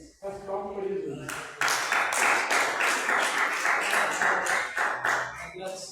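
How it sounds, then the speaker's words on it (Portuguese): Church congregation clapping for Jesus during a worship service, a dense, steady wash of many hands starting abruptly after a brief sung or spoken opening and continuing loud and rhythmic throughout. "Faz palmas para Jesus"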